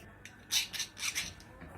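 A metal edge is rubbed down by hand before welding, giving several short, quiet scraping strokes in an irregular rhythm, close by and alone without speech.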